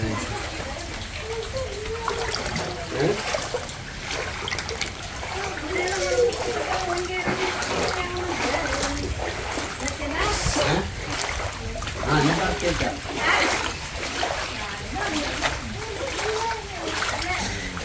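Floodwater splashing and sloshing repeatedly as someone wades through it around a flooded house, with voices talking over the splashes throughout.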